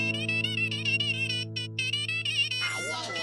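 A phone ringing in a household comedy scene, a steady tonal ring with warbling upper tones running for a few seconds before it cuts off and a voice begins at the end.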